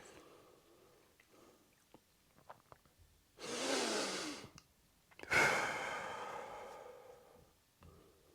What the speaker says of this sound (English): If you will right now take a deep breath.